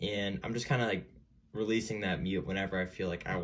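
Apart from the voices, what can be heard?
No everyday noises stand out.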